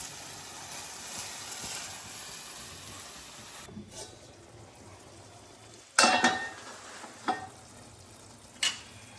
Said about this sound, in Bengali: মানে মাখানো মাছটা দিয়ে হালকা হাতে একটু নাড়বো